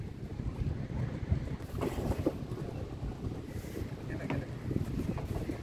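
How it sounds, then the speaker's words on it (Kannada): A 58-foot fishing boat heads out to sea from Kodery harbour, with a steady low engine rumble under constant wind buffeting and faint wave wash. "ಸುಮಾರು 58 ಅಡಿ ಉದ್ದದ ಒಂದು ದೋಣಿಯಲ್ಲಿ ನಾವು ಸಮುದ್ರದ ಅಂಚಿಗೆ ಪ್ರಯಾಣ ಮಾಡ್ತಾ ಇದ್ದೀವಿ"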